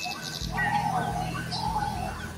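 Forest birds sing in a series of clear, moderately close chirps and whistled notes with a soft low coo underneath, and no voices are heard.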